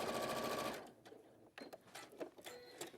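A domestic sewing machine with a normal foot stitches laminated raincoat fabric in a fast, steady burst that stops abruptly, followed by fainter clicks and handling noises.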